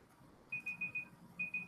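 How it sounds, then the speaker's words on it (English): A thin, high electronic alarm tone beeps in a quick pulsing pattern, pausing briefly before starting again, moderately quiet over low room noise. "well, that was my alarm, and my alarm just went off"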